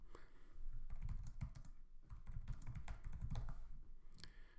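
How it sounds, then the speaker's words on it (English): Someone types notes on a computer keyboard, producing rapid, close clicking keystrokes in bursts with brief pauses. "any notes that we wanted to take in the meeting, we can just type in."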